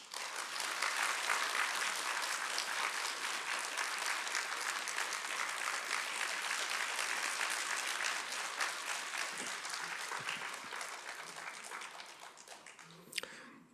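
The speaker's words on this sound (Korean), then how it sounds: "나오실 때 큰 박수로 환영해 주시면 감사하겠습니다." An audience at a lecture gives sustained, dense applause welcoming a speaker, loud and even for most of the stretch before thinning and fading near the end.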